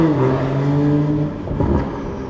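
2021 Toyota Supra with stock turbo and aftermarket downpipe revs hard nearby, the engine note rising then dropping off into a whooshing turbo spool and flutter, loud and alone.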